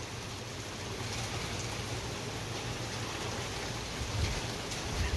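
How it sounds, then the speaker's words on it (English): Steady broadband rain hiss, fairly distant and even, with a low rumble underneath and a slight swell near the end. "It's raining, it's pouring"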